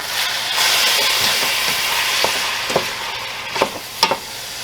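Cheeseburger egg roll filling sizzles and hisses in a pan while being stirred, with a steady frying crackle punctuated by several sharp scrapes and clacks of the utensil against the pan.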